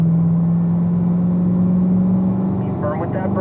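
A car engine pulls steadily after an upshift into fifth gear, its droning tone holding loud and constant with a voice talking over it.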